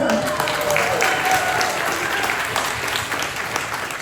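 A live audience at a D23 event at Disney's Magic Kingdom breaks into steady, dense applause for a presenter, sustained at full strength for about four seconds with a few voices mixed in.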